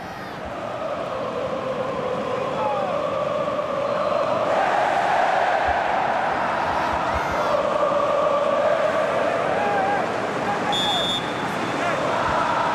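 Fluminense fans in a packed football stadium during a Brazilian league match against Figueirense, a loud continuous roar of chanting crowd with a whistle rising above it near the end.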